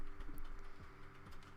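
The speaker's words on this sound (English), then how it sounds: "My microphone is very close to my keyboard, and my keyboard is very loud." A loud computer keyboard close to the microphone, with quick, light, irregular key clicks tapping in bursts over a quiet background.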